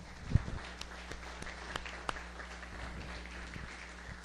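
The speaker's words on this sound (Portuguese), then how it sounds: "Mais palmas ao Senhor Jesus." A church congregation claps during a Sunday service: faint, distant, scattered applause with a few sharper claps standing out over a low room hum, and no voices on top.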